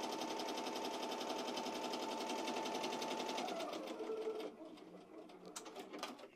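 A Ricoma EM-1010 embroidery machine stitches appliqué at 700 stitches per minute with a fast, steady mechanical rattle. The rattle runs up close for about four seconds, then slows and stops, leaving a few faint clicks and taps.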